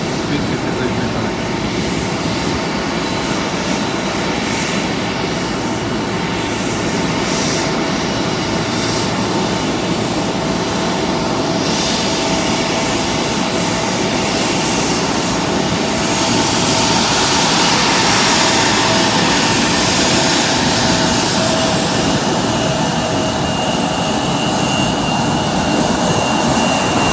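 Airliner jet engines roar and spool up loudly before taxiing to the runway, a long continuous rumble and whine that swells slightly toward the end, with faint voices in the background.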